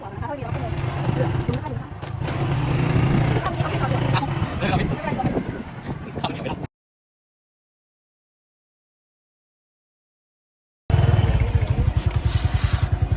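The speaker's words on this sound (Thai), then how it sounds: "ตอนนี้เราก็ขึ้นรถสามร้อยขี่ไปแล้ว" A 300cc motorbike being ridden, its engine droning steadily close by with a voice talking over it. The sound cuts to silence partway through, then returns loudly.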